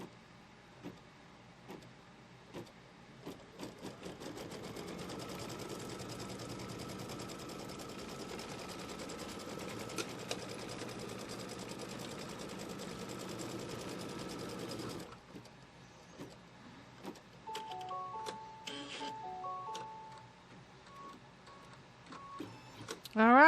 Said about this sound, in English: it's going to stitch a line from the left over to the right